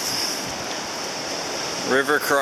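Creek water rushing steadily as the tide comes in at a creek crossing on a coastal trail, a continuous broadband wash heard up close, with brief voices near the end.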